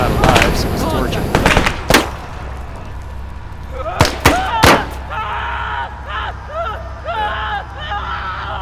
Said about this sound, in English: I got him with the flame tank